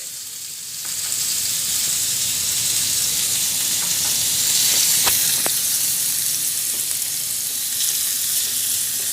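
Chicken frying in oil in a pan for a sandwich, a steady loud sizzle with spattering crackles and a few sharp pops, close by and continuous with no talking.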